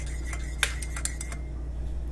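A spoon stirs coffee in a glass, giving two or three bright, close clinks against the glass over a steady low background hum.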